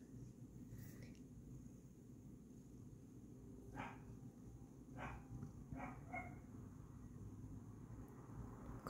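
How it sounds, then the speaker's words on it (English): A dog barks a few times in the distance, short yips spread over several seconds against a steady low background hum. "Oh, there's a doggy outside."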